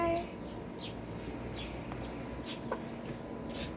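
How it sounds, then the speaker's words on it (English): Chickens cluck in an organic home garden planted with papaya. The calls come as scattered short clucks over a steady outdoor background hum, moderately faint. "I got chicken here."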